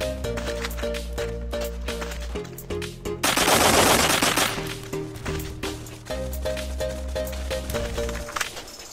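Rapid automatic gunfire from the blocky first-person shooter Blockpost comes in dense bursts. A louder, harsher volley erupts midway, then the repeated firing resumes with some sharp clinks.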